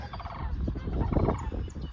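Turkeys gobble near a farm with a corn crop, several rapid rattling calls overlapping close by in a continuous, noisy burst.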